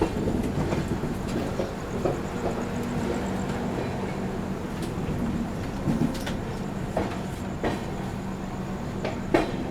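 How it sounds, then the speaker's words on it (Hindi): The 12450 Goa Sampark Kranti Express rolls into Panvel railway station with a continuous rumble of wheels on track, broken by sharp rail clicks and clanks over about ten seconds. "पनवेल रेलवे स्टेशन अराइव कर रही है अपनी गोवा संपर्क क्रांति"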